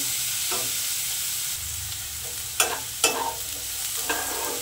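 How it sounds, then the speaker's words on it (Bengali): Spice paste with chopped tomato is stir-fried in a pan: a soft, steady sizzle runs throughout, with a few sharp spatula scrapes and knocks clustered in the middle and near the end. "আবার একটু মশলাটাকে কষে নেব"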